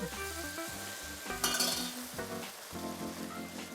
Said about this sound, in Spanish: Cubrimos con caldo bien caliente